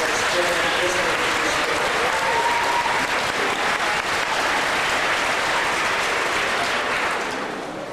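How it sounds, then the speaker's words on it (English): Steady, dense applause from a large audience honouring students on a Kris's Wish walk in Saskatoon, loud and sustained throughout with cheers and voices mixed in, tapering slightly at the very end. "let's give them a big round of applause."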